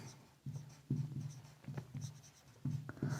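Pen scratching math onto paper in short, irregular bursts of strokes, close and fairly quiet, with no voices.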